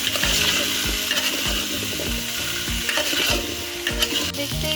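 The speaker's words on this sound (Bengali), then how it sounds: "এখন এতে লবণ ও হলুদ দিয়ে ভালোভাবে ভেজে নিব।" Fish seasoned with salt and turmeric sizzle loudly in a pan while a utensil stirs them, its scraping strokes knocking at a regular pace through the frying.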